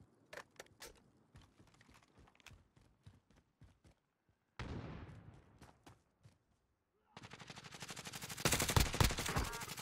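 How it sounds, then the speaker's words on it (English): Video game gunfire: scattered single shots at first, then longer rapid automatic bursts that grow louder toward the end, with brief quiet gaps between volleys. "I'm fucking shooting them."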